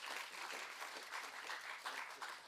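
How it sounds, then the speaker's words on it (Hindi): Audience applause at a seminar on cyber crime against women, steady dense clapping from a crowd filling the room throughout, fairly faint and distant with no speech over it. "जोरदार तालियों के साथ इस इनिशिएटिव के लिए।"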